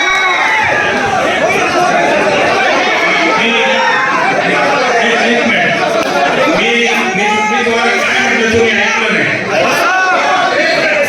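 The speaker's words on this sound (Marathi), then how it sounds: "सर्वच पदाधिकारी कार्यकर्ते आणि नागरिक यांनी एकच जल्लोष करून डीजेच्या तालावर नाचण्यास सुरुवात केली" A large outdoor crowd in Hingoli of party officials, workers and citizens shouts and cheers continuously, loud and dense, with voices chattering throughout.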